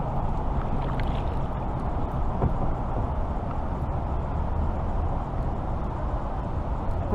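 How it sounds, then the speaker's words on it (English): Fishing kayak paddled across a flooded Tennessee pond, a steady low rush of water and hull noise carrying on continuously without pause. "Let's paddle back out."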